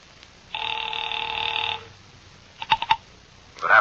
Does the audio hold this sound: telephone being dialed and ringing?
yes